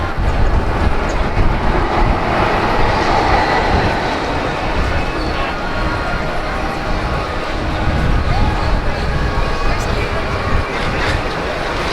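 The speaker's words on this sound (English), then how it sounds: "as I started recording this, the monorail's coming" Disney monorail arriving at Epcot, a loud continuous rumble and rolling rail noise close by that fills the whole stretch.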